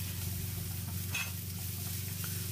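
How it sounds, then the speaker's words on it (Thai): Chopped shallots, chopped garlic and sliced ginger stir-frying in chicken oil for Thai chicken rice, a soft steady sizzle with faint stirring scrapes and one brief clink, fairly quiet and without talk. "ก็จะมีหอมสับกระเทียมสับแล้วก็ขิงหั่นแว่นนะครับผัดกับน้ำมันไก่ให้หอมเลยนะครับ"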